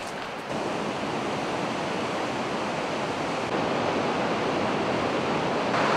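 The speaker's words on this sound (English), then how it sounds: "I think I hear water." Water flows beneath a bridge along a Colorado mountain highway, a continuous rushing wash with some wind buffeting the microphone, steady and fairly loud throughout.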